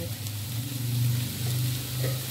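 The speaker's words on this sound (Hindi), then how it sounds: "लेकिन 3 से 4 मिनट इसे मैं अच्छे से भूनूंगी" Spicy okra (bhindi) masala frying in a pan gives a steady, close sizzle with a low bubbling hum underneath, continuous and moderately loud.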